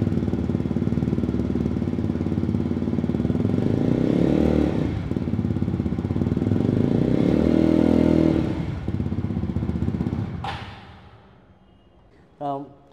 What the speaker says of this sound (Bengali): এই ভীষণ সুন্দর বাইকটার সাউন্ডটা কেমন সেটা একবার আমরা শুনে নেব।